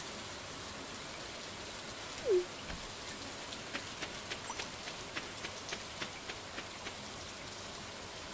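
Steady rainfall in the Stardew Valley video game, a soft continuous hiss with faint scattered drop ticks, quiet and even throughout with no voices.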